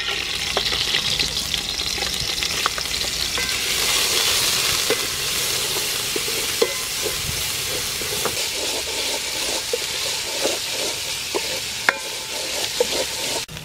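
Onion and broccoli fry in hot soybean oil for a chicken palm fruit curry, a steady loud sizzle and hiss with occasional stirring clicks and scrapes throughout.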